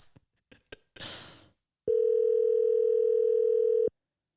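A telephone line tone sounds while dialing out to bring a caller into a three-way podcast: a few faint clicks and a brief burst of noise, then a steady, loud two-second tone that cuts off sharply.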